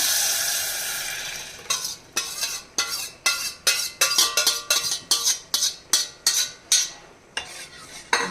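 Mashed drumstick pulp being stirred in a soup pot with a metal spoon, a rhythmic series of about a dozen sharp scraping clinks against the pot, close and clear over a soft background hiss.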